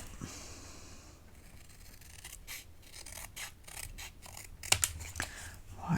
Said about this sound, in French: je vais venir découper au ciseau